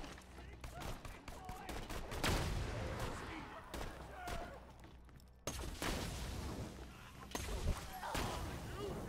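SMG gunfire in Borderlands 2, repeated bursts of rapid shots with thudding impacts spread across the clip, moderately loud, with players talking over and between the bursts.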